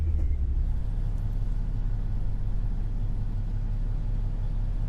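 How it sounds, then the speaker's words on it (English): Peterbilt 389 truck engine in American Truck Simulator, a low steady rumble that idles on evenly throughout with no voices over it. "Full-on American truck for a full-on American truck game."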